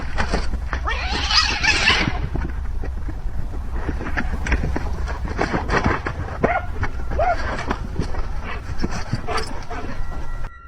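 A cat fights off a strange creature at night in an Oklahoma City backyard, with harsh yowls and hisses, scuffling and a dog's whimpers and barks mixed in, fairly close and loud throughout.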